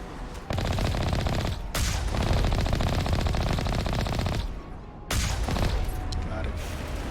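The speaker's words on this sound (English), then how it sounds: "There is an enemy up ahead, and it's shooting at me already." Sustained enemy gunfire in Mass Effect Legendary Edition on Insanity difficulty, rapid loud bursts running almost the whole clip with a brief pause near the start and another near five seconds, and a voice talking beneath it.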